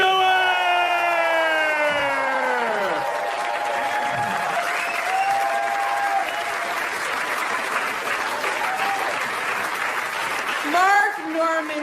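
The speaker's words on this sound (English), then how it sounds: "Put your hands together for Amy Schumer!" A stand-up comedy audience claps loudly for Amy Schumer as she is introduced, sustained applause with whoops and cheers over it that swells again near the end.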